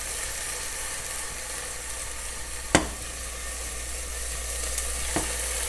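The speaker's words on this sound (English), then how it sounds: "So we're just gonna stir it and we're gonna fry that a little bit, okay?" Sofrito for seafood tostones frying in a pan, a dense, even sizzle running throughout, punctuated by two sharp utensil knocks against the pan.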